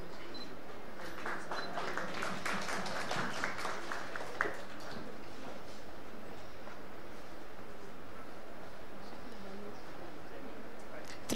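Audience applause at a Hindi fortnight closing ceremony, a burst of clapping in the first few seconds that thins and fades into quiet room noise with faint murmuring.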